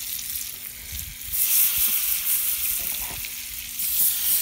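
Butter sizzles steadily in a cast-iron cornbread wedge pan, a close, even hiss with a few faint scrapes and taps, and no talking.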